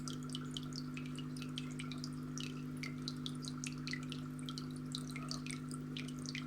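A hose siphons water from the bottom of a fish fry tank, giving a steady stream of small trickles and drips over a constant low hum.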